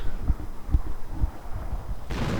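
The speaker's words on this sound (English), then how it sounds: "we're going to be seeing artillery being sent in the direction of here" Artillery and howitzer shells land in a real-time war video game, a run of deep, heavy booms a half-second apart, followed by a sudden wash of broad noise near the end.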